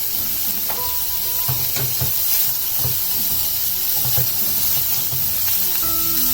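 Onions, green chillies and curry leaves sautéing in a pan for a Tamil poori potato masala, giving a steady close sizzle with scattered stirring knocks and scrapes against the pan.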